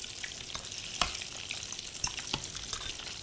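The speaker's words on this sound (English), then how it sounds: "you need to fry your onion there" Onions fry in hot oil in a home kitchen, a faint continuous sizzle broken by a few sharp clicks and scrapes of stirring, with no voices.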